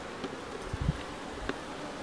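Honeybees at an opened hive frame of an old black-hive comb give off a soft, steady hum with a few brief louder buzzes as bees pass close by, and no voices are heard.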